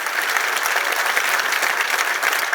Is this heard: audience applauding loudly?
yes